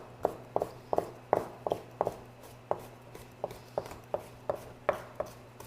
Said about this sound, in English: So you have this nice sized pepper. We're just going to cut it into strips.